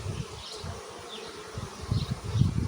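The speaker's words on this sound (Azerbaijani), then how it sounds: "arılar biraz agresivləşir" Slightly agitated honey bees buzz around beehives, a continuous low droning hum with swelling pulses as individual bees pass close to the microphone.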